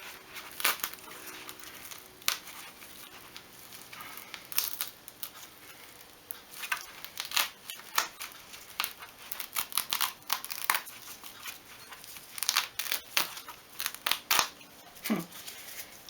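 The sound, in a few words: cutting shadow foam for tool box organisation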